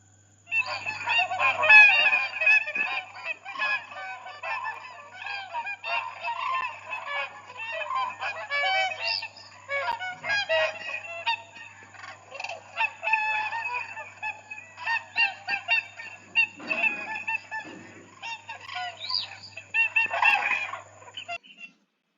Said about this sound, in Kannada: ಕ್ರೇನ್, ಕೊಕ್ಕರೆ.